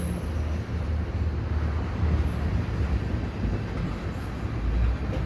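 A three-engine CPKC westbound intermodal freight train passes at night at Dorval station, a steady, loud rumble of rolling wagons and engine drone filling the scene continuously with no voices.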